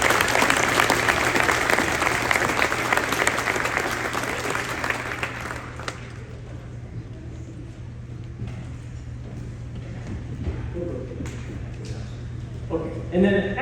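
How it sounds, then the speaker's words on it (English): An audience applauds an eighth-grade school band concert, with loud clapping for the first several seconds that fades into scattered claps, murmuring and room noise, a steady hum underneath. "So let's give that group of 8th graders a round of applause."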